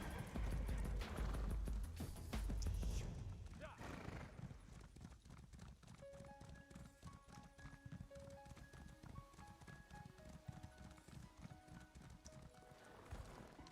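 Hooves clip-clop steadily and a horse whinnies in Elder Scrolls Online, the trotting beat running under game music with a loud burst at the start.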